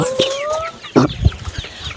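Pet chickens cluck and murmur nearby in short, uneven bursts, with a few sharper squawks and soft scuffling in between.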